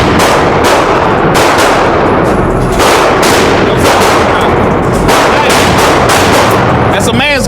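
Guns fire at an outdoor shooting range, loud sharp reports cracking in rapid, irregular succession close by, saturating the scene with heavy booming echoes.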